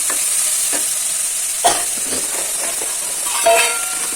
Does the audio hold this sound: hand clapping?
no